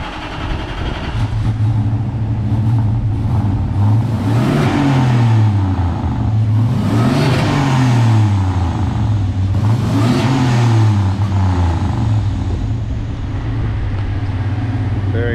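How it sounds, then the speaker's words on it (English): A turbocharged 1UZFE V8 in a custom-bodied Holden starts and idles with a deep, steady note, then gets revved repeatedly, each loud, close blip rising and falling back to idle. "Just gonna start the car, rev it up, let us hear how it sounds."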